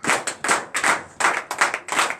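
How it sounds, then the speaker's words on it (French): A church congregation at a morning prayer service in Comè, Benin, claps hands in a quick, uneven rhythm of sharp, close slaps grouped in short bursts, with no talking over it. "Donnez l'acclamation à l'Éternel."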